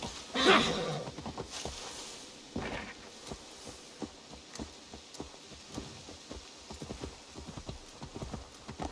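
A horse in Assassin's Creed Valhalla clip-clops along in a steady trotting rhythm, with a brief neigh near the start and a soft patter like rain underneath.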